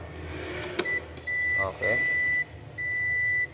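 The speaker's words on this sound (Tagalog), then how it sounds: "Buzzer." During repair of a Ginza 32-inch smart TV with no red standby light, a test buzzer sounds three sustained electronic beeps in a row, close and steady, with someone briefly speaking.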